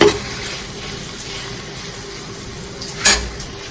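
Pre-boiled Maggi noodles fry in a pan with no water, a close, steady hiss of sizzling broken by a sharp scrape or stir burst near the end.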